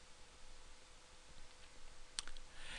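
A faint, quiet room with a single sharp click of a computer mouse near the end, preceded by a few softer ticks, with no talk.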